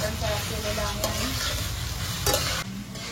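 Onions fry in hot oil in a pan for prawn biryani, a loud continuous sizzle broken by a few sharp scraping stirs of a spoon against the metal.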